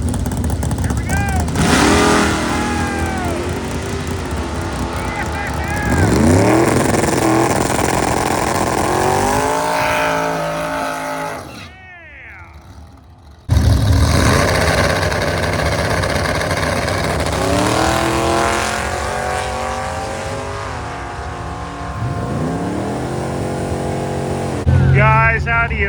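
Hot rod car engines at the Tri-Five Nationals revving hard in repeated climbing surges, loud and close with a brief lull midway, other voices and crowd noise mixed underneath.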